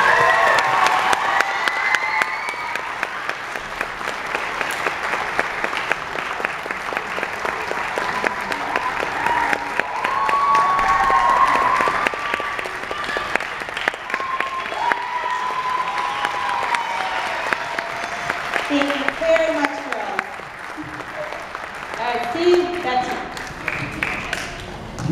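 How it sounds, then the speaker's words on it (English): Audience at a spring dance recital applauding and cheering, sustained clapping with shouts and whoops from the crowd, children's voices rising at times, and a person speaking over the noise. "Another round of applause for these people."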